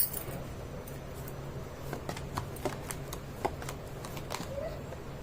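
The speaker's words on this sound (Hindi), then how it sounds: "मैं कर लेती हूँ कार्ड की शफलिंग।" Tarot cards are shuffled close by in soft, rapid riffles and crisp snaps, repeated over several seconds against a low room hum.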